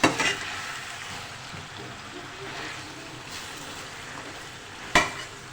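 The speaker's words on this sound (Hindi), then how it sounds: "बैगन ऐड करने के बाद अब हम इसे मिक्स करेंगे।" Eggplant curry being stirred in a pan of spices, giving a soft steady sizzle and scraping throughout, with a sharper clatter near the start and another near the end.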